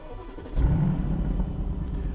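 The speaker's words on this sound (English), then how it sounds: "So we're going to start the car up." A used car's engine turns over and catches, settling into a low, steady rumbling idle nearby.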